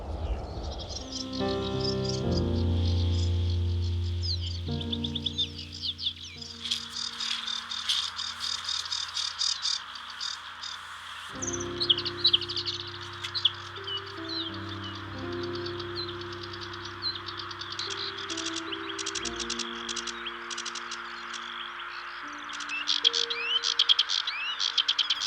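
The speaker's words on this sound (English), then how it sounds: "because of the Sedge Warblers absolutely singing and showing really well" Sedge warblers sing on a moor, their busy scratchy phrases of chirps and trills running continuously alongside other birdsong over a low, droning tonal background.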